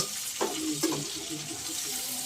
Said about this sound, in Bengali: চিংড়িগুলো কিন্তু অলমোস্ট ভাজা হয়ে গেছে